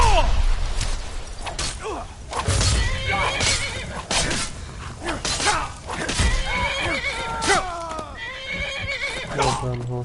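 A horse in the video game Skyrim neighs and whinnies repeatedly at close range, with hoof clip-clops, game effects and a voice talking and exclaiming over it.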